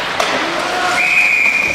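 Referee's whistle at a high school ice hockey game, a loud sustained shrill blast rising in pitch over crowd and arena noise.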